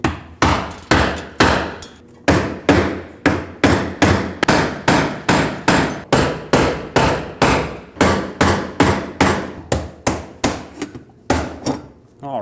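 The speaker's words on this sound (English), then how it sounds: "preferably with a brass punch, but if you don't have one, just be very careful not to create sparks because there's fuel fumes in the air" A brass punch is struck with a hammer over and over to turn the fuel pump lock ring on a GMC Yukon, about two dozen sharp metallic blows in a steady rhythm, close up and loud.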